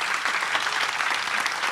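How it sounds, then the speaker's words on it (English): A conference audience applauds steadily for the full stretch at the close of a keynote at an education technology summit, a dense, even wash of clapping at moderate level with no voices. "And can we hear a round of applause?"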